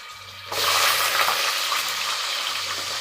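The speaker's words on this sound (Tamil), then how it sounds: "நெக்ஸ்ட்டு வந்து நறுக்கி வச்சு வெங்காயத்தை போட்டுக்கலாம்." Oil bursts into a loud, steady sizzle as chopped shallots drop into the hot pan for a dried turkey berry curry, then keeps crackling evenly, close up, with no talking.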